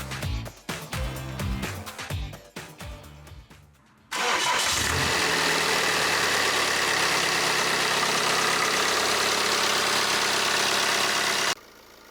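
BMW X1 engine, freshly reassembled after repair, cranking with rapid rhythmic starter pulses for about four seconds, then catching and settling into a loud, steady idle close by until it is switched off near the end.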